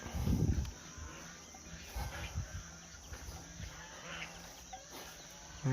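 A low bellow from a water buffalo in a grazing herd rises at the start, followed by quiet outdoor ambience with soft rustling and faint bird calls.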